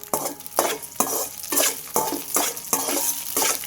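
Onion dropped into hot oil for a tomato sambar tempering, stirred with a spoon in a pan, heard as a rhythmic series of loud, close scraping and sizzling strokes repeating about every half second.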